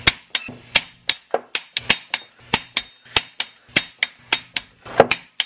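Sharp metallic clicks from a wrench tightening bolts during a Nissan 350Z clutch replacement, a quick regular ratcheting rhythm of close, crisp ticks with no talk.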